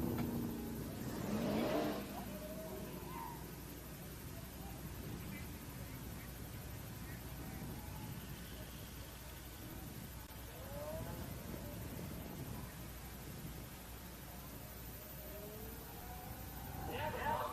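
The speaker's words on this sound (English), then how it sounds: "the mom car, the 9-second Durango coming back around left-hand side" A Dodge Durango SUV, a 9-second drag car, makes a loud engine rush near the start and builds again at the end, with fainter engine and crowd noise between and people talking over it.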